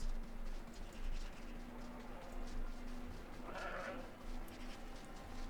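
Sheep bleating in the video game RuneScape: Dragonwilds, a single wavering bleat rising midway through a steady bed of game ambience, moderately clear but not loud.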